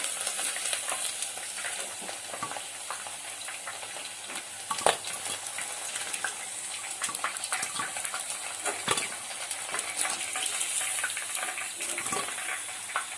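Chicken pieces frying in oil in a pan for chicken fried rice, a dense steady sizzle close up, broken by occasional scraping stirs and clinks, with no one talking.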